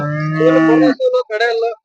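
A cow moos loudly and close by at a cattle market in Honnali, Davanagere, one long low call followed by a few shorter broken lowing sounds.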